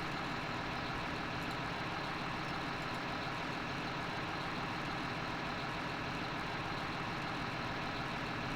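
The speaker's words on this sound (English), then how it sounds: "I also got a shiny new tractor." A new tractor engine runs at a steady idle in the farming game Farm Sim 17, a continuous, loud, broadband diesel rumble that holds unchanged and alone throughout.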